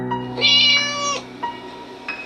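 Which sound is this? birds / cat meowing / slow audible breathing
cat meowing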